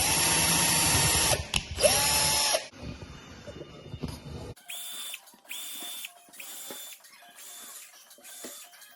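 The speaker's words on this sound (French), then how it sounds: "On va commencer à percer les plus grosses trous pour les fils un peu plus grands." A drill bores holes into the headliner of an Audi R8 while a starlight ceiling is fitted, several short high-pitched whirring bursts, the first two louder and longer, then a series of briefer, quieter runs with pauses between.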